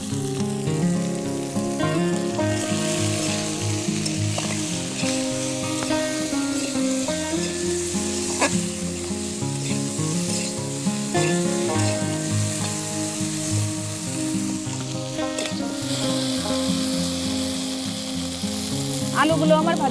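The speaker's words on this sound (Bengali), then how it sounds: "এবার আলুগুলোকে ভেজে নেব" Potatoes fry in hot oil in a pan with a loud, continuous sizzle that runs the whole time, mixed with occasional stirring and a steady tonal backing.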